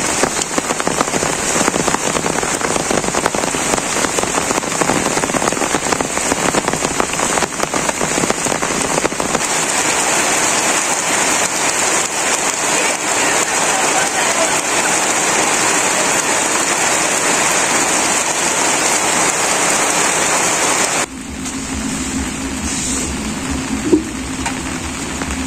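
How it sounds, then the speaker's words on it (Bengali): Heavy rain pouring down in a village, a dense, loud, unbroken roar of drops on surfaces that drops to a lighter patter near the end. "বৃষ্টি ভালো রকম নামছে"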